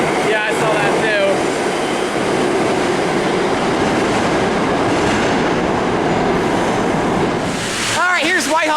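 A loud R160 subway train rumbles through Whitehall Street–South Ferry station in New York City, a close, continuous roar of wheels and cars with a brief tonal squeal at the very end.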